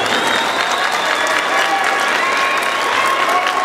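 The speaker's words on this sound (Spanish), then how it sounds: "El aplauso para Rancho Dolceo." Dense, even applause from a crowd at a tournament in Tamazulapan, steady clapping without cheering that holds at the same loudness throughout.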